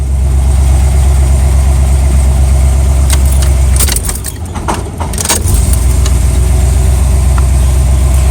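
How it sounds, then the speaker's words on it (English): A 1978 El Camino engine idles a little high with a loud, steady, close rumble that dips briefly in the middle before settling back to an even drone. "It's idling a little high."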